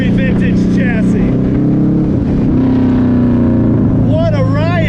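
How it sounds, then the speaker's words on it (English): Vintage sports car, an Aston Martin DB2 or Allard J2 with modern performance, driven with a loud, rising and falling engine drone close by, with someone talking over it much of the time. "This car has modern performance, but a very vintage chassis."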